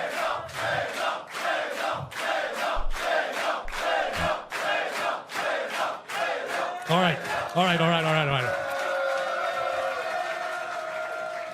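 A crowd at a Starcraft 2 tournament upper-bracket final between Reynor and Clem claps and chants in a steady rhythmic pulse, then breaks into a sustained roar of cheering while a voice speaks briefly.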